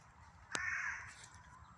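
A single crow caws outdoors near a turnpike route, a sharp harsh call with a drawn-out tail, followed by fainter calls at a distance over quiet background.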